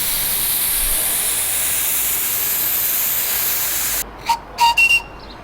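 Safety valves on a coal-fired steam locomotive blow off on a local railway track, a loud, steady roaring hiss that cuts out abruptly, followed by a few short bursts.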